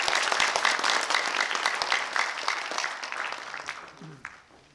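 Audience applause at the opening ceremony of a cultural organization in Seoul, a dense clatter of many hands that is steady and loud at first and then thins out and fades toward the end.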